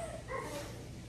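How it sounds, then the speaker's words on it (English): A dog barks and yips faintly in a home kitchen during a shrimp po' boy cooking session, a brief muffled burst with no talk over it. "That's my dog."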